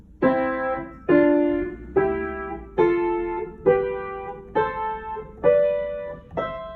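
Piano notes struck one after another, eight evenly spaced two-note strikes climbing steadily upward, each ringing briefly before the next.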